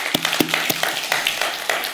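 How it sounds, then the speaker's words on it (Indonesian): A church congregation at a Sunday service claps in a brief, lively burst, with sharp, dense hand claps close by and no talk. "berikan tepuk tangan untuk Tuhan Yesus"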